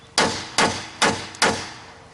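Four sharp metal hammer blows strike a stuck spring shackle on an old Chevrolet Silverado, evenly spaced about half a second apart, each ringing briefly before fading.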